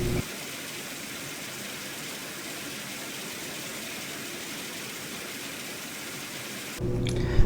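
Steady rain hissing in a Valve video game, a constant even wash filling nearly the whole stretch before cutting abruptly near the end.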